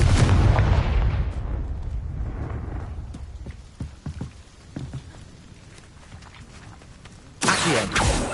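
Confringo spell blasts in the video game Hogwarts Legacy: a loud opening explosion fading into rumble, scattered lighter impacts, then another sharp burst near the end.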